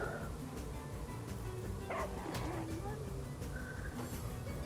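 Small dog barks and yips sound in a fantasy video game battle against wolves, short bursts popping out over busy game audio with a continuous background layer.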